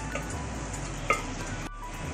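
Urad dal with spices in a pot sizzles and bubbles softly as it is stirred, with a faint clink of a utensil partway through and a brief dip in the noise near the end.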